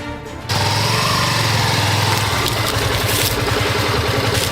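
A motorcycle engine starts up after a brief quiet moment and then settles into a loud, steady idle with a throbbing low rumble close by, running continuously without any talk.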